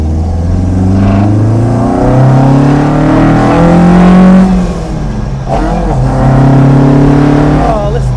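A 2.0 Ford Escort ST estate engine with throttle bodies revs hard, loud and close, its rising and falling throttle blips carrying a throaty induction roar in several swells.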